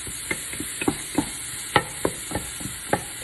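Spaghetti sauce with crushed tomatoes simmering in a pot while a spoon stirs it, giving scattered soft scrapes and clicks over a quiet bubbling background, close and fairly faint.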